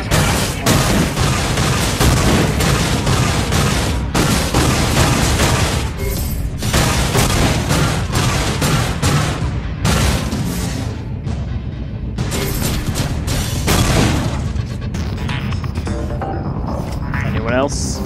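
A robot fires semi-automatic shots in the video game The Fall: dense, rapid booming gunfire that continues loud and nearly unbroken, with short gaps between bursts.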